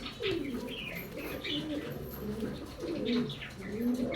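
Several female pigeons coo close by in repeated throaty, rolling phrases that overlap one another, with a few faint chirps mixed in.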